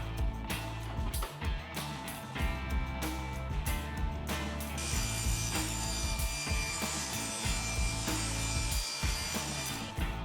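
A saw makes a 45-degree cut across a wooden board while building a spline jig, giving continuous rasping, mechanical grinding with scattered clicks and knocks at close range.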